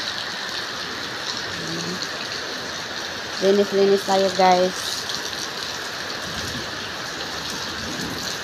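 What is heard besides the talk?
heavy rain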